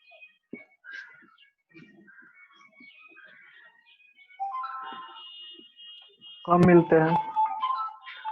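A phone ringtone going off during a class, a tinkling melodic tune that plays softly and then grows louder, with a person speaking over it partway through.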